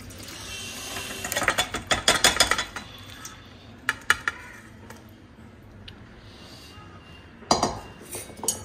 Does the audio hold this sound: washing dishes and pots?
yes